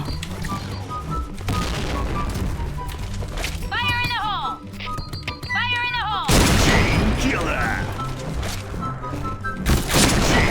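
Rapid gunfire in the online shooter Point Blank, dense bursts of shots and booms with mechanical clicks, loud and close throughout with a brief lull midway and a heavier barrage near the end.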